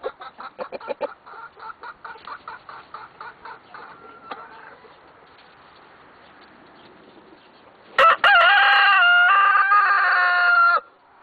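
A rooster clucks in a quick series of short calls, falls quiet, then lets out one loud, drawn-out crow near the end, heard close and alone.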